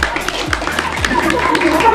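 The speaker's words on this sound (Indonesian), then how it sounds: "tepuk tangan dulu nih." A group claps hands at an indoor training session, quick uneven claps over a couple of seconds, with voices murmuring underneath.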